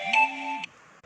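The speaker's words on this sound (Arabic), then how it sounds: "معلش جالي التليفون بس." A mobile phone ringtone plays a short, bright electronic melody of sustained tones for just over half a second, fairly close and loud, then cuts off, leaving quiet room tone with no speech.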